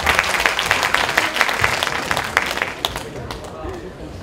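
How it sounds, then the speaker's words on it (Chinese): An audience claps and applauds to welcome a dance group performing an anti-vote-buying campaign dance. The applause is a dense, loud, sustained patter that thins slightly toward the end, with crowd noise mixed in. "掌声欢迎左左右右。"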